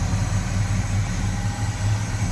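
The original engine of a 1972 Oldsmobile Cutlass S with HEI ignition idles smoothly and steadily, producing a low, even throb heard close up with no talking.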